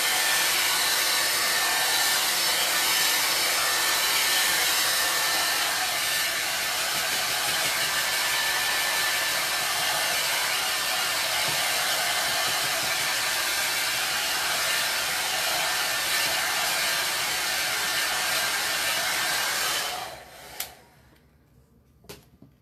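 A hair dryer blows steadily at close range to dry chalk paste on a pumpkin stencil, a loud, even whoosh that runs for about twenty seconds and then cuts off abruptly, leaving near silence.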